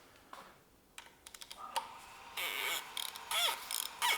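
A ratchet clicks on a Porsche M96 engine's timing chain guide anchor bolt, first in short separate clicks, then in rapid bursts of ratcheting, close and fairly quiet with no speech.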